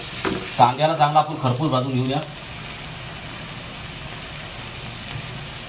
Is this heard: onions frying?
yes